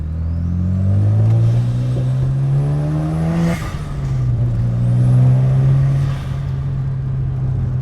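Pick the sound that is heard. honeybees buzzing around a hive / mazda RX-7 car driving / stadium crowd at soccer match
mazda RX-7 car driving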